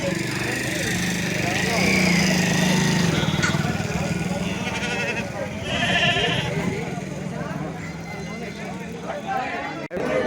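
White and black sheep and rams bleat at the Narketpally livestock market, their repeated calls close and loud amid a busy crowd, with people talking throughout and engine noise in the background.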